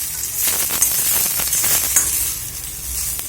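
Onion, chili and garlic fry in a little hot oil in a kadai, giving a continuous close hissing sizzle with faint crackles and occasional stirring scrapes, and nobody speaks.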